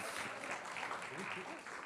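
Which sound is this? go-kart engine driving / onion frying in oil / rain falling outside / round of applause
round of applause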